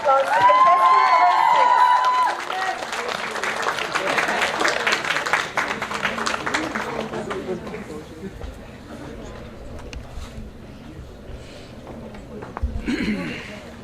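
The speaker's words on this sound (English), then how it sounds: "Shall we all give a big round of applause to contestant number" Crowd applause greets a contestant at a medical college induction and freshers' day event, loud and dense at first, then thinning out with voices and crowd murmur continuing underneath.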